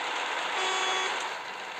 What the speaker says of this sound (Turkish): kornamız var bu arada